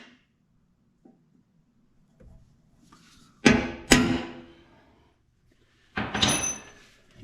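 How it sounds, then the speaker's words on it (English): A few sharp metallic taps of a small hammer on a punch, two close together then a short burst a moment later, against a quiet room. "So tiny hammer and a punch."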